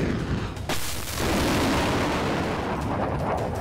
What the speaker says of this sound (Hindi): डोनेस्क में जोरदार गोलीबारी।